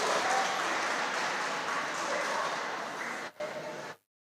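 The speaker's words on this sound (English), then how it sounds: "Please clap for Klaus." A school audience at an inter-school quiz competition claps steadily in a continuous wash of applause, with a brief dip near the end before it fades out.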